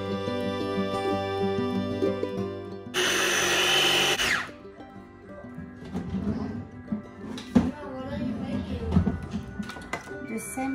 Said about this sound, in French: We're gonna grind it until it's starting to become a paste.